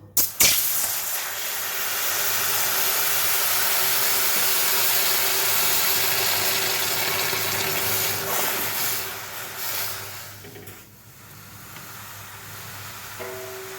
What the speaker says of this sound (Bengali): ডালটা হালকা ভেজে নিয়েছি সুন্দর একটা গন্ধ ছেড়েছে এবার জল দেবো